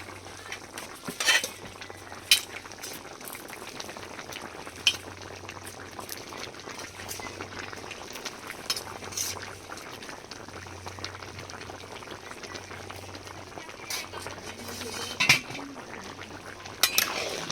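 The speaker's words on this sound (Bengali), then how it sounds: "সব সিদ্ধ হয়ে গেছে এবার চিংড়ি মাছ দিয়ে দেবো" Prawns go into a large pot of simmering food being cooked for about a hundred people at a village function, with a steady bubbling boil under scattered metallic scrapes and clinks of a ladle stirring against the pot.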